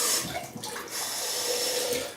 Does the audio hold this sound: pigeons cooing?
no